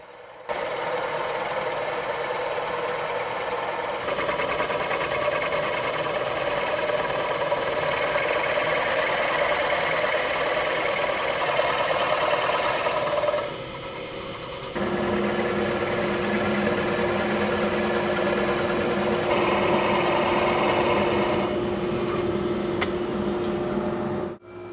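A drill bores a hole into a wood block clamped to a fence, 3 inches in from each edge, while building a sculpted bar stool; a loud, steady machine drone runs nearly unbroken, with a short drop in pitch midway.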